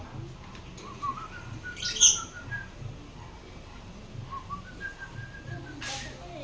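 Faint, high bird chirps and whistles come in short scattered calls from a distance over a quiet background.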